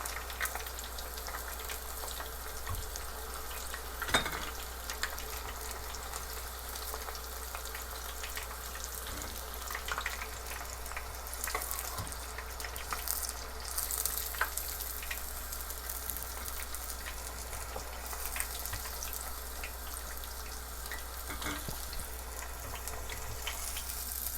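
Steady crackling and sizzling of chicken deep frying in hot oil in a pot, a continuous bubbling hiss with occasional louder pops, heard up close.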